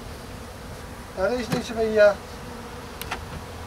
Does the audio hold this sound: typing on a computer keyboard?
no